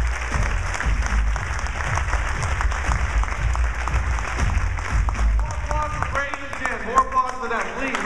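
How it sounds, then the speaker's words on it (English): Audience clapping at the Web 2.0 Expo in New York, a busy room of applause with crowd noise and some voices mixed in, thinning slightly toward the end. "More applause for them, please. Lots of applause"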